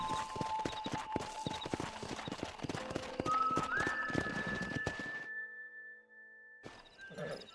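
Horse hooves clip-clop in a quick galloping rhythm in the Red Dead Redemption video game, close and steady for about five seconds with a brief whinny and a tonal game sound over it, then a pause and a few more hoofbeats.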